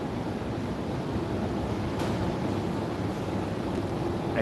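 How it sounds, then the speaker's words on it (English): Wind rushes steadily across a tenth-floor balcony in Bangkok, a broad, constant noisy roar buffeting the microphone, with faint distant city hum beneath and no talking. "I can see it's a bit windy here."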